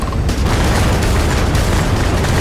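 Spaceship missiles exploding in the space combat of the video game Starfield, a dense continuous rumbling blast that stays loud and steady throughout.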